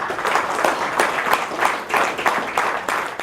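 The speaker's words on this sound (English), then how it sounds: "Why don't you give a round of applause to Mr. Randy Ratnayaka." Audience applause at a Big Bash 2019 token-of-appreciation ceremony: a fairly loud, continuous round of clapping with a slightly pulsing rhythm that runs the whole few seconds.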